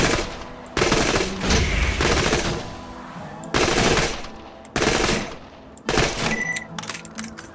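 Bursts of rapid automatic gunfire from a machine pistol in Borderlands 2, about five loud volleys of a second or so each, separated by short pauses with quieter game noise between them.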